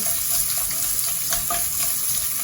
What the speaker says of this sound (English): About a whole garlic. and about half an onion, half a white onion, and I'm going to just allow this to cook down